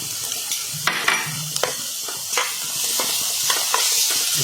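Browned onion with turmeric, asafoetida, ginger-garlic paste and chili paste stirred as it fries in a pan for green peas samosa filling, a continuous sizzle broken by repeated scraping strokes and soft knocks of the spoon.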